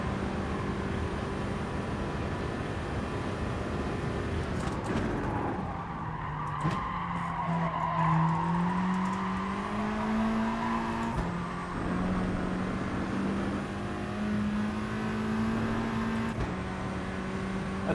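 Volkswagen Gr.3 race car tires squealing at redline in a racing video game at Interlagos, a continuous high-revving engine whine with steady tire screech running throughout, no talking.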